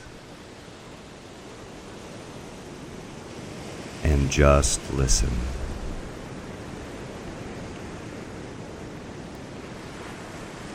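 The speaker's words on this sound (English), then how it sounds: "Allow the sounds of the ocean waves crashing against the shore" Ocean waves wash against a shore as a steady, soft broadband roar that runs throughout, with a calm voice speaking briefly over it partway through.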